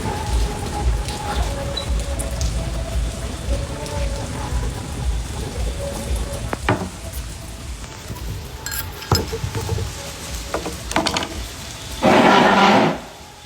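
Rain pours steadily at a golf course shelter, a dense hiss broken by scattered drips and clinks, swelling into a loud heavy burst near the end, with no one speaking.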